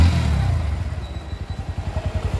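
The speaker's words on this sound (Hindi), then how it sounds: "देखिए बाइक चालू है" A 2022 Bajaj Pulsar NS125 motorcycle engine runs close by, settling from a rough start into a steady, rhythmic low idle thump with no voices.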